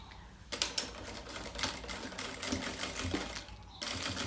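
A sewing machine stitches a zipper onto fabric and lining for a child's two-in-one bag, running steadily in a close, rattling burst for about three seconds between short quiet gaps.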